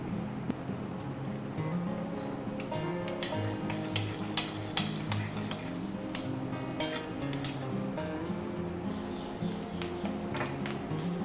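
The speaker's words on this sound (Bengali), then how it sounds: "এটা হালকা ভেজে নেবো নিলে খুব ভালো একটা ফ্লেভার হয় গন্ধটা খুব সুন্দর হয় কিশমিশটাও দিয়ে দেবো" Raisins, added after cashews, frying in a pan for chana dal. A utensil clinks and scrapes steadily against the metal as they are stirred nearby, with a soft sizzle underneath.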